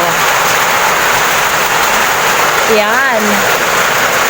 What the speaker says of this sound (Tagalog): Lakas ng ulan mga kamusang.